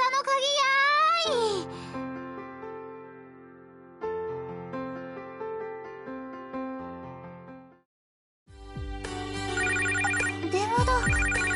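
A telephone rings with melodic electronic ringtone phrases that stop, restart and pause. A voice is heard over part of it.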